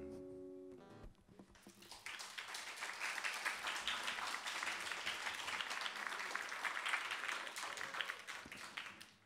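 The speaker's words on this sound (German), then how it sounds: "Ich weiß nicht, wie lange es her ist, seit ich einen Applaus gehört habe." An audience at a live rock concert breaks into sustained applause after a short musical close, clapping loud and dense for several seconds before tapering at the end.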